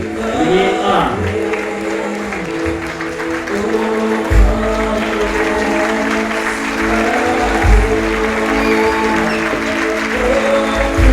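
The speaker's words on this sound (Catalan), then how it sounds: "Rebem un fort aplaudiment la classe de primer D, primer A." A school audience claps loudly for a first-grade class at a Pastorets performance, steady crowd applause mixed with background music and some chatter.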